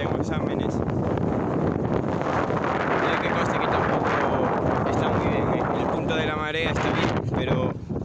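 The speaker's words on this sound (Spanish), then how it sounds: "hace bastante viento y nordés" Strong northeasterly wind buffets the microphone at a Galician estuary, a loud, constant roar filling the whole clip with brief hints of voices underneath.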